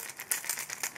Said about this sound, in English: So what you're hearing right now is mostly the hook clatter.